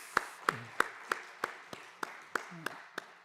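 A church congregation at a Sunday worship service claps in unison, about ten sharp, evenly spaced claps at a brisk steady beat, moderately distant, with no talking over them.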